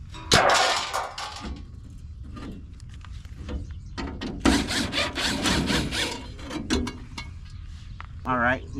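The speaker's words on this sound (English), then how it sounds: "we'll have to finish cutting through the rusted panel" Saw cutting through a rusted steel body panel on a 1978 Chevrolet K5 Blazer under restoration, rasping in uneven bursts with clanks and pauses, voices talking between strokes.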